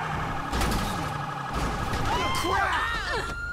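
A police car siren from the video game GTA 5 wails steadily and loud with a sweeping pitch. It plays under engine and street noise and gets busier toward the end.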